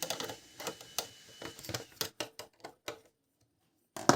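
A revived Bernina 700d overlock sewing machine stitching in quick, uneven mechanical clatters for about three seconds. It falls silent, then gives one more short burst near the end.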